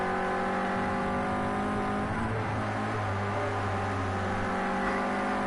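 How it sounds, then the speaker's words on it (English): A Clio Cup race car engine revs hard at the Red Bull Ring, an onboard engine wail with steady rising harmonic tones, easing briefly midway before climbing again, loud and continuous with no talk. "Hits the revs."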